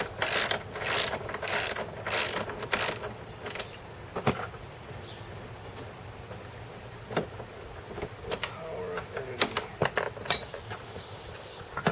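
A ratchet wrench loosens bolts on a Toro Personal Pace mower deck in quick, rapid clicking bursts near the start, followed by sparser clicks, knocks and creaks of metal close by.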